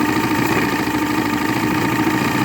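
An Evinrude Johnson 85hp V4 crossflow outboard motor idles loud and close, a steady, continuous rumble with slight unevenness after its carburetors were rebuilt, with no talking over it.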